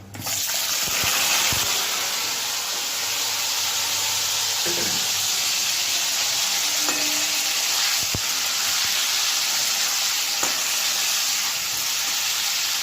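Ridge gourd slices hit hot oil already crackling with nigella seeds and green chillies, making a loud, steady sizzle that runs unbroken with a few soft stirring knocks.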